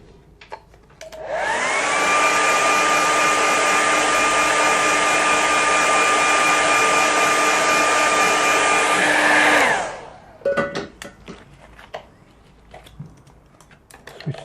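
A hair dryer switches on and blows steadily and loudly for about eight seconds over a watercolour landscape painting, a whooshing roar with a steady motor whine, then cuts off into light tapping and handling sounds.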